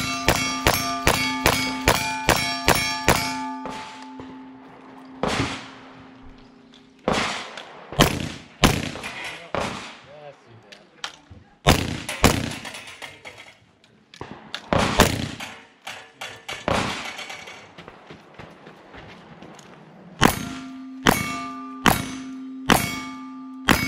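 Cowboy action shooting with pistol, rifle and shotgun fired at steel targets outdoors: rapid strings of sharp bangs, each followed by a ringing metallic clang, with pauses between bursts.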